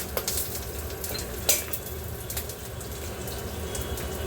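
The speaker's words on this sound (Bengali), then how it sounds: "তো এই ভাজা ভাজা হচ্ছে" Chilli and garlic fry in a pan on low heat for chowmein, a steady close sizzle with a few light stirring scrapes and clinks, no talking.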